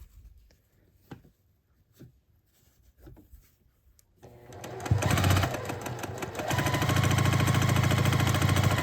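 A sewing machine stitches quilt block pieces together, starting after a few seconds of quiet handling noises and then running loud and steady without pause.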